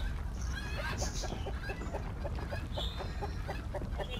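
Chickens cluck repeatedly in a video game, a quick steady series of short calls over a busy game background, with a voice faintly heard at times.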